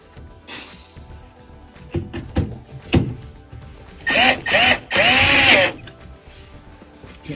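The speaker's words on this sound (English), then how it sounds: "I'll add the 2 little Phillips head screws." A power screwdriver driving two small Phillips head screws into the top of an LG washer, heard as two short buzzing whirs and then a longer one, after scattered handling knocks and clicks.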